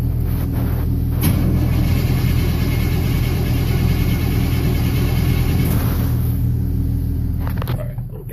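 An old car engine cranking over as it tries to start, a loud, close, continuous mechanical rumble and whirr that runs steadily and eases slightly near the end.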